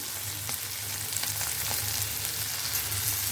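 Chopped onion sautéing in a pan for red poha: a constant close hiss of frying with a few faint stirring ticks, no voices.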